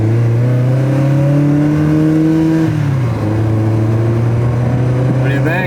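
A Ferrari 360 with a fuel leak and its check engine light on drones loudly as the car pulls out of a driveway, its pitch climbing steadily, dipping at a shift, then holding, with a voice speaking over it.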